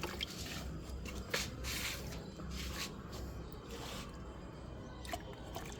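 Rotten oil-cake fertilizer water is poured into rooftop garden plant pots, a continuous wet splashing and trickling close by with soft drips.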